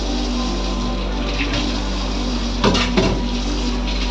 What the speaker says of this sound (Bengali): তো চলো বাসন মাজার কিছু ক্লিপ তোমার সাথে শেয়ার করি।